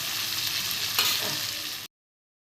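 Bay leaf, whole cumin, dried red chilli and whole garam masala frying in hot oil in a pan, a steady close sizzle with a brief louder crackle near the middle before it cuts off abruptly.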